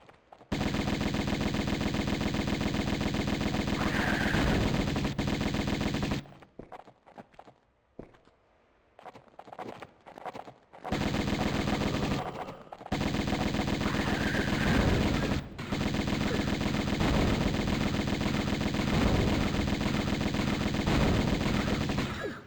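Sustained rapid Uzi gunfire from the Tomb Raider video game, loud and dense with bursts over a steady background, broken by a quieter stretch partway through before the firing resumes.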